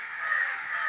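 Crows cawing across from a spot that had been quiet, a single drawn-out harsh caw filling the whole moment, loud and close, with no talking.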